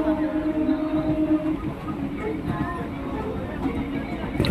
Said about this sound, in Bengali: ট্রেন কিন্তু 75 এবং 80-র মধ্যে চলছে, যেটা কিন্তু লোকাল ট্রেনের পক্ষে একটা ভালো স্পিড